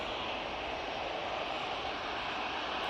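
An Emirates airliner at Manchester Airport gives off a steady, broad jet engine roar heard from a distance, continuous and even without any voices.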